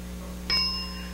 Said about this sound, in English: the bell will sound